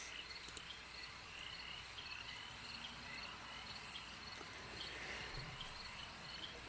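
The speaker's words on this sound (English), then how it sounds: "I'm just gonna listen to the frogs and the crickets" Dense chorus of crickets trilling steadily with frogs croaking softly beneath, a calm, continuous nighttime ambience with no voices.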